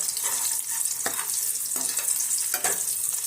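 Oil frying in a pan for egg biryani, a continuous close sizzle with a few stirring scrapes breaking through.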